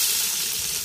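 Onions added to hot oil for village-style chicken biryani give a steady, close, bright sizzle that stays fairly even across a brief moment.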